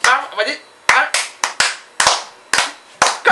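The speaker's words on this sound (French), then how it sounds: "je fais même un double applaudissement avec les pieds et les mains" A man applauds himself, clapping with his hands and stamping his feet; brief talk opens, then loud, sharp claps land in pairs roughly every half second, close up.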